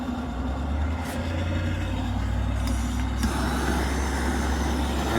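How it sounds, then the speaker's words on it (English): Blower on a Bob Alexander gas forge running with a loud, steady low rumble and airy roar, continuous and close, with a couple of faint higher clicks over it and no speech. "Go ahead and turn our blower on."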